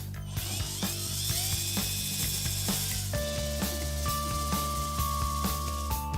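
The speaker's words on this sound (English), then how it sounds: "we're going to drill 3 holes just to secure that cattle tag" A small power drill whirs in quick, repeated bursts, close and steady, its pitch shifting partway through as it bites into a hard turtle shell.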